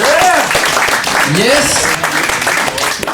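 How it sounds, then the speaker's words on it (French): A comedy show audience applauds and cheers, sustained clapping filling the room while a performer's voice shouts over it near the start. "donnez-vous une bonne main d'applaudissement pour avoir affronté cette grosse tempête"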